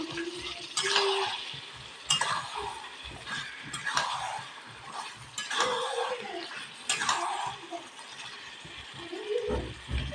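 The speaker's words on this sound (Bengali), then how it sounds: "এবার একটু নেড়ে নেব ভালো করে কষে নেব" Meat in a cooked-down spice masala is stirred and fried in a pan, rhythmic scraping strokes of a spoon repeating every second or two over a low sizzle, close and fairly loud, with no talking.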